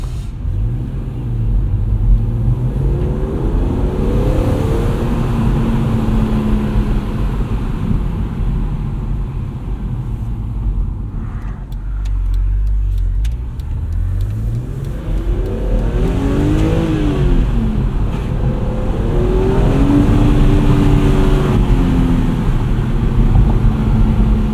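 2008 BMW Z4 M Coupe with its 3.2 liter inline six accelerating hard on the road, engine note climbing through the gears with a brief dip at a shift, loud and close, no talking.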